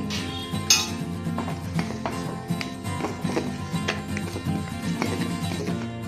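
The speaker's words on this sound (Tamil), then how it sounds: "இது வீட்டு தயிர் போட்டு நம்ம நல்லா கலக்கி" A spoon clinks and scrapes against a bowl while semolina batter is stirred with salt and loose homemade curd for rava pakoda, giving an irregular run of close, light metallic taps with no talking.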